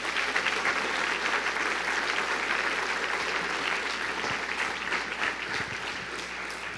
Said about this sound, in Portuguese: Aplaudir, aplauda forte.